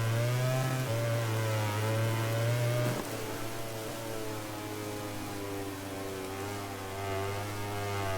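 Motorcycle engine in the MotoGP 21 racing game, holding a loud, steady high-revving whine that drops to a lower pitch partway through and stays continuous.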